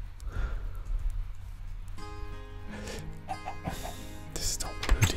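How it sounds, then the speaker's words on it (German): Minecraft chickens cluck in a German let's play, with several short clucks and game sounds scattered across the clip and a background voice faint underneath. "Ganz feines Huhn."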